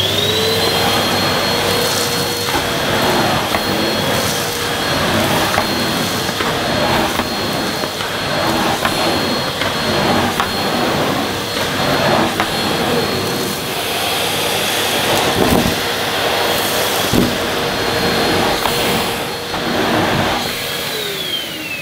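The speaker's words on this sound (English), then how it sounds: "there are a few clumps here and there that I think I'll tackle with the Henry Plus" A Numatic Henry Plus vacuum cleaner runs continuously while picking up clumps of dirt, its loud, steady whining roar broken now and then by brief rattles of debris being sucked up.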